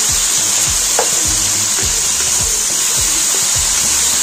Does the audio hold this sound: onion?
yes